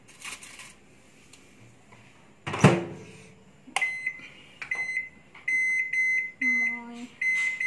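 A kitchen oven heats a foil-covered pudding. Quiet handling noises and a sharp clatter come first, then the oven gives a string of clear electronic beeps, some long and some short, at moderate volume.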